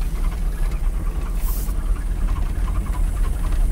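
A rough, low carbureted engine of a 1959 Mercury Monterey rumbles steadily up close, its uneven chugging throb continuing throughout with no voices.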